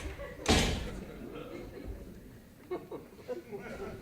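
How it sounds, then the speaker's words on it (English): Door slamming on stage during a theatre performance, one loud sharp bang early on, followed by quieter footsteps and people talking. "The door slammed."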